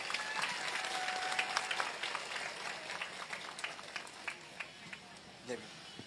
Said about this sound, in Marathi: एक मोठा टाळ्यांचा हात सरांसाठी येऊन जाऊ देत प्लीज